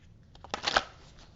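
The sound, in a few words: shuffling cards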